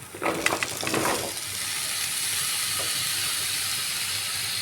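Cut squash dropped into a hot pan of cooked-down spices, a burst of crackling sizzle that settles into a steady, moderate hiss of frying with no talking.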